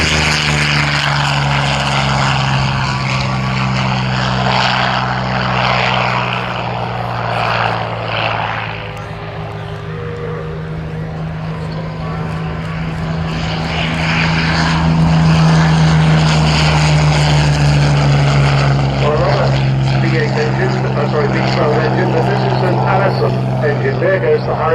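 Hawker Hurricane fighter with a Rolls-Royce Merlin engine at an airshow, a loud steady propeller drone with strong low harmonics that swells as it passes close, heard under crowd and commentary noise.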